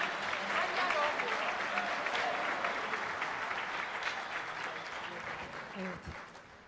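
Studio audience applauding on the Turkish TV talent show Popstar Alaturka, a dense, steady wash of clapping that holds loud throughout and eases slightly toward the end.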